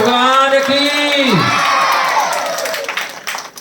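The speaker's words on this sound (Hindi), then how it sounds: "जोरदार तालियां हो जाए" An audience at a Bhagwat Katha gathering claps and cheers loudly, a broad wash of applause running under a sustained singing voice that fades out.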